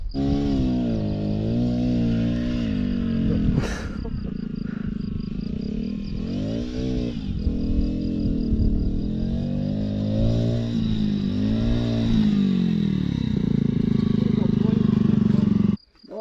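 Motorcycles ride past on a sandy road, their engines droning and revving up and down in pitch close by, with brief voices in the background and a constant insect-like whine underneath.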